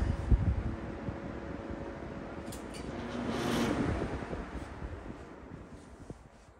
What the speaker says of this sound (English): So we'll take a look at the spin down.